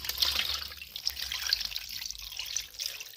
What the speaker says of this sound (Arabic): وعندي المي اضيفها فوقه بهالشكل